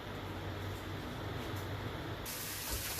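A haleem meat mixture boiling in a pot over a flame, giving a faint, steady hiss that continues evenly without any speech.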